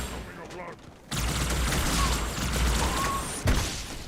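Carbine gunfire in a Halo game: dense, continuous crackling bursts of weapon fire with energetic whooshes, loud and sustained for most of the clip, with a player talking over it.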